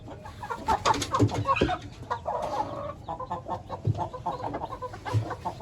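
A rooster and hen cluck in bursts against an outdoor bustle of voices, the calls irregular and mid-distance, with people talking nearby.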